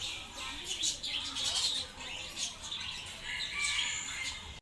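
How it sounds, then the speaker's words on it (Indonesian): Green birds calling at a bird park in Palembang: a dense, steady stream of bright chirps, squawks and tweets from several nearby birds, with no talk over them. "Ini burung apa hijau ini ya?"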